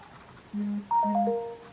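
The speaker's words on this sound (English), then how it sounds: "Why does my phone always go off when I'm making a video?" A mobile phone ringtone goes off indoors, sounding as a short melodic sequence of clear electronic tones that rises in pitch, moderately loud and close, with no talking over it.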